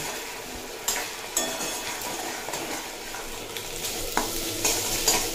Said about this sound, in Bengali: মশলার কাঁচা গন্ধটা চলে যাওয়া পর্যন্ত কষিয়ে নিয়েছি